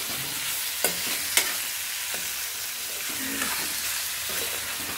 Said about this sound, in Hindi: तो इसको डाल देते हैं और फ्राई करते हैं